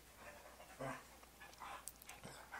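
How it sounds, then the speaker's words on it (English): A dog panting softly with a faint whimper, close but quiet, breathing in a loose rhythm over a low hum in an indoor room, no talking. "I have dogs in the background."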